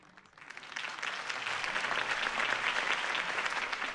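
Crowd applause following a campaign speech by Harvey Dent in the Batman Telltale video game, a dense sustained clapping that swells within the first half second and stays steady and loud throughout.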